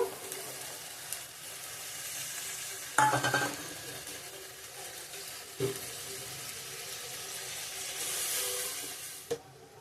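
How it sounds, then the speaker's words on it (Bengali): Masala with tomato paste is sautéed in a pan at home, a soft, fairly quiet sizzle with a watery hiss, broken by a clattering scrape at about three seconds and a couple of later utensil knocks. "কষিয়ে নিব টমেটো পেস্টটাও দিয়ে দেব"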